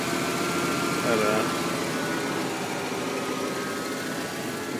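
A 1994 Ford Bronco Eddie Bauer idles with a steady engine rumble and a thin, constant power steering whine riding on top, close by, while someone talks over it.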